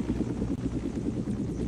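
A video-game helicopter drones with a steady low rotor throb, fairly loud and continuous, with no voices over it.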